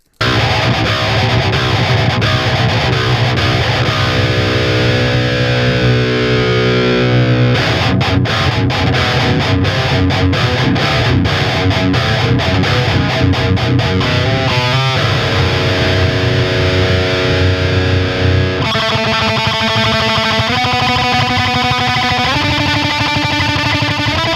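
Heavily distorted electric guitar played continuously with a green .88 pick, thick sustained chords shifting to choppy strummed passages, loud and alone.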